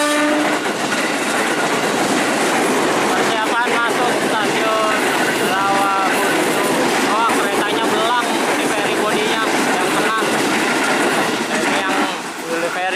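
A JR205 commuter train rolls on rails between Rawa Buntu and Serpong stations, a loud continuous rumble with rhythmic clickety-clack of wheels over rail joints and faint voices in the mix.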